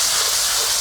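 Tomatoes with salt hit hot oil with onion, ginger and garlic for a chicken biryani masala, giving a loud, dense sizzling hiss that lasts less than a second.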